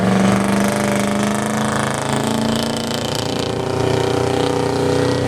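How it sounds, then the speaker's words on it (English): Modified diesel 4x4 pickup truck roaring under heavy load during a truck pull, a loud, continuous engine drone with steady harmonic tones and little variation, alone without talk. "We're going to go back to diesel trucks. The modified division of diesel 4x4s is next."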